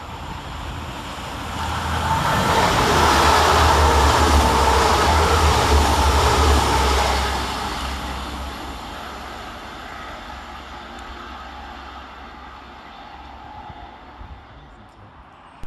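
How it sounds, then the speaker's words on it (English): Two coupled Transpennine Express Class 185 diesel units race through a suburban station at speed, a loud rushing roar that swells over the first seven seconds and then fades into a lingering rumble. "Passing fast through the station for Transpennine Express, we see 185113 and 185129, working 1P67 from Manchester Airport through to Saltburn."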